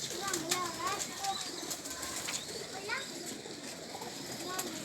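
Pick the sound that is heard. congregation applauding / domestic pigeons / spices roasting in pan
domestic pigeons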